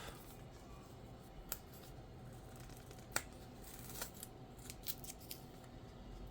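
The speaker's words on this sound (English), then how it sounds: "And then just rip the sticker off." A sticker is peeled off a watch box in a quiet room, heard as a few faint crisp tearing and crinkling snaps spread over several seconds.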